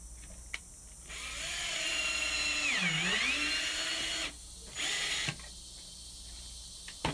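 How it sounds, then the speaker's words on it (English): A power drill drives pocket hole screws into wood pieces joined with glue for a farmhouse coffee table, whirring steadily for about three seconds with a pitch dip midway, then a brief second burst. "I'm going to be attaching these pieces of wood using wood glue and pocket hole screws"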